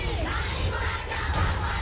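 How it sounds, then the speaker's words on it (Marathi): Shiv Sena supporters in Mumbai celebrate with a loud, dense crowd roar of shouting and cheering that sustains throughout, with a brief surge near the end. "शिवसेनेनं शुक्रवारी मुंबईसह राज्यात प्रचंड जल्लोष केला"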